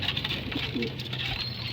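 Soft, low pigeon coos sound twice close by, rounded and throaty, over a steady background hiss.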